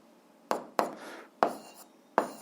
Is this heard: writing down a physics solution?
yes